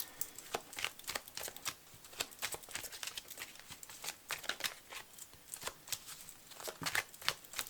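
Oracle cards being shuffled by hand for a six-card reading, a steady run of soft papery flicks and riffles close by, with no talk over it.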